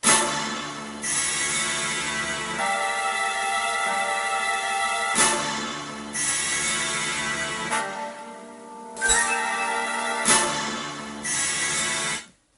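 Beat samples playing with the bass and drums removed, layered melodic and tonal loops in steady sections that change every couple of seconds, loud and clear with no talking.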